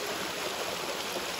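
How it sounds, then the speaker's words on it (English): A steady, broad rush of water pours from an open tap on a hydro collection box of an off-grid micro hydro setup, loud and continuous with no pauses. "I've got the tap open, so that's draining a lot of that water out"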